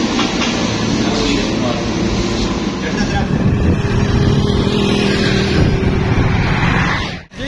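A motorcycle engine runs steadily and loudly outdoors in a Pakistani village, a continuous close rumble that fills the clip before cutting off near the end.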